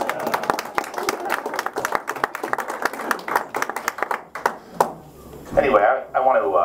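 Lecture-series audience in a hall claps for two women, loud close individual claps in an uneven rhythm that die away after about four seconds, then a person begins speaking.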